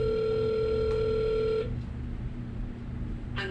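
Phone line ringback on an outgoing call, a steady repeating tone that cuts off after about a second and a half, leaving faint line hiss with a couple of soft clicks.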